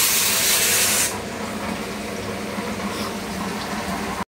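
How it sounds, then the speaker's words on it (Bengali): Rice boiling in a pot with a little too much water, spattering as it cooks, makes a steady close hiss of bubbling and sputtering that is louder for the first second, then settles into a softer continuous simmer. "এটাতে ভাত হচ্ছে, একটু ছিটকাচ্ছে"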